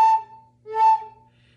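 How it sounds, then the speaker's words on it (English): An overblown flute sounds two short, bright whistly tones, the note jumping up an octave, each about a fraction of a second long with a brief gap between, close and clear with no other sound. "if you do put too much air in when you have all the holes covered, you may overblow the flute, which makes a sound like this."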